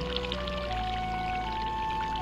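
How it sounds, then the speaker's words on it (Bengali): Water pouring and trickling steadily out of a plastic bottle fish trap lifted from the water, a continuous close stream lasting the whole moment, with no talking. "জলটা খুব সুন্দর বার হচ্ছে দেখুন"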